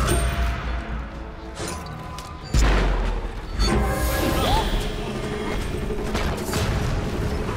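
A phoenix structure is destroyed in the video game Smite, with deep booms and crashing impacts over dense, continuous battle noise and mechanical clatter.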